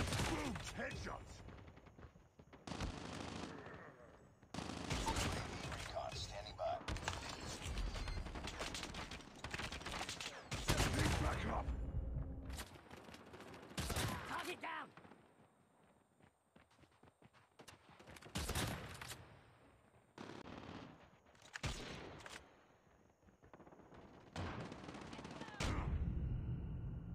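Sniper rifle shots and gunfire in a video game night-mode mission, repeated sharp cracks and bursts spread across a busy battle mix, loud and close, with a voice now and then in between.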